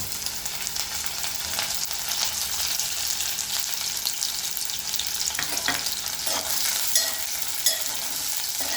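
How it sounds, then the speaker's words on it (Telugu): Chana dal and onions frying in hot oil in a pan, a steady, close sizzle with occasional stirring scrapes and small pops throughout, with no talking. "ఆయిల్ వేడైంది కదండి, కొంచెం శనగపప్పు,"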